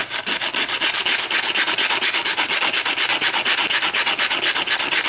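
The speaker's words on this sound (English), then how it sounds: "I can also use my sandpaper as a sanding block" Steady rhythmic rasping of sandpaper used as a sanding block, rubbed back and forth in fast even strokes while fitting a trigger kit for an XD45 pistol, close and loud with no talking.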